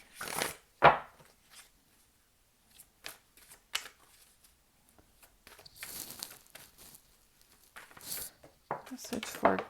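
Oracle cards are handled and shuffled, giving soft scattered riffles, slides and taps in quiet bursts, with a person talking intermittently between them.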